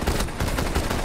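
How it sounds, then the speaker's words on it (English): Sustained gunfire in a combat video game, a dense, loud run of rapid shots pulsing steadily through a short burst with no pauses. "Suppressive fire!"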